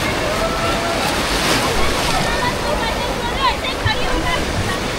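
Strong waves surge and splash in a water park wave pool, a loud, steady rushing wash of churning water that fills the whole stretch.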